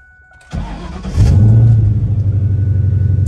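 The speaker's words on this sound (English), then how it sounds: "Here's a cold start on a 2001 Ford Mustang GT." A 2001 Ford Mustang GT V8 cold-starts after a quiet moment: a brief starter crank, then the engine catches with a loud burst and settles into a rough, throbbing idle.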